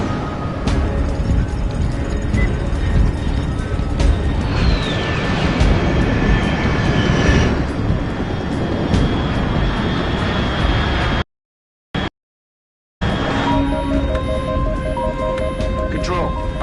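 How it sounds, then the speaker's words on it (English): An aircraft passes overhead in the video game Metal Gear Solid Snake Eater: a loud, steady, dense roar that holds throughout, interrupted once by a short silent dropout before resuming. "Control, unidentified aircraft detected."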